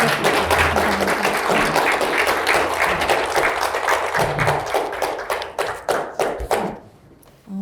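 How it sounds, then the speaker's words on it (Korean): An audience at a social welfare lecture gives a dense round of clapping, loud and sustained, then thinning into scattered claps before fading out near the end. "좋은 강의해주신 최명민 교수님께 다시 한번 박수 부탁드립니다"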